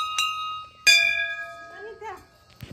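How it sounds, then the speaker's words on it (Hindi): A Hindu temple bell at a Shiva shrine rung twice, sharp metallic strikes with long shimmering ringing tones that fade slowly, followed by a brief soft thump at the end. "घंटी बजा लीजिए।"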